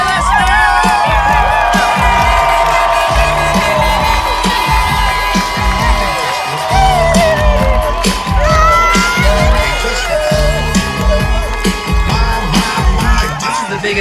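A huge crowd at the British Grand Prix roars a welcome, with sustained loud cheering, whoops and high shouts filling every moment, and voices calling out over the din.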